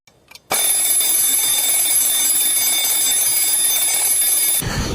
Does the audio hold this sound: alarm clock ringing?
yes